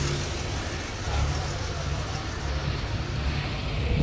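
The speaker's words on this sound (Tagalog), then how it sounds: "Vibrate na yung makina." A Dodge Ram engine with a fault idles rough and vibrating, a steady low rumbling drone at close range, continuous and fairly quiet with no talk over it.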